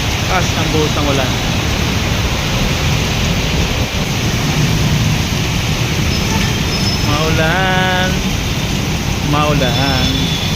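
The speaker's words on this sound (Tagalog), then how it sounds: "Ang buhos ng ulan." Heavy rain pours in a steady loud hiss around a roadside where tourist buses pass, with a voice talking over the downpour and a brief vehicle horn cutting through.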